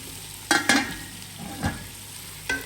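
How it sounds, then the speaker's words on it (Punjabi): Mutton karahi frying in desi ghee with a steady low sizzle, broken by a few distinct scraping stirs of a spoon in the pan, close up and with no voices. "ਆ ਫਰਾਈ ਹੋ ਰਿਹਾ ਦੇਸੀ ਘਿਓ 'ਚ"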